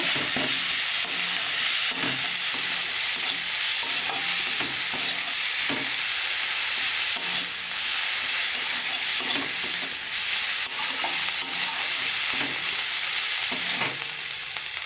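Spiced masala with turmeric sizzling and frying in a pan for a Bengali fish curry, with steady hiss and repeated scraping of a stirring spoon; close and continuous, no talking.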